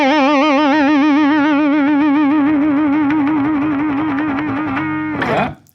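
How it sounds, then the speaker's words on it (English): An electric guitar with distortion sustains a note under a wide, fast, wobbling vibrato, holding loud and steady before fading out into a short scraping string noise at the end. "It's where you're vibratoing so crazy that it makes its own sound towards the end."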